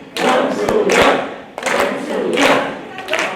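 A concert audience gives a singer loud applause that comes in three rhythmic surging bursts, with crowd voices mixed in and a few heavy thumps.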